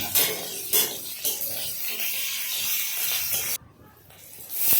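Whole cumin seeds fry in a hot pan with a loud, hissing sizzle broken by a few stirring scrapes, dropping suddenly quieter near the end before the sizzle swells back.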